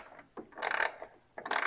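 A ratchet spins a bolt off the grille of a Ford Explorer, giving quick close bursts of clicking pawl rasps separated by short pauses.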